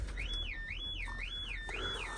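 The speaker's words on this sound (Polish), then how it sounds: "Czekajcie, bo się alarm włączył." An electronic alarm sounds indoors, a steady warbling tone sweeping up and down in regular cycles about every half second, fairly quiet and alone, with no talking.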